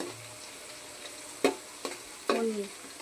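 Vegetables and chilies frying in a pan for vegetable fried rice, with a steady low sizzle broken by two or three sharp stirring scrapes and a brief louder burst of frying near the end.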